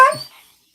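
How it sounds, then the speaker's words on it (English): A dog gives a single short, high whimper up close, fading within about half a second, with no other sound around it. "My dog is making things difficult for me."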